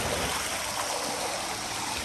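The clear Chaka river flows near Martand (Mattan) in Kashmir, a steady, full rushing of water that stays constant and close throughout, with no voices.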